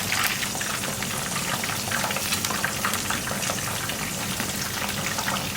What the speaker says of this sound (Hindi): चिकन को मैं पलट के फ्राई कर लूँगी।